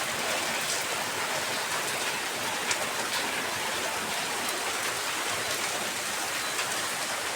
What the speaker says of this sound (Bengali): শুধু বৃষ্টি হতে আছে সে সকাল থেকে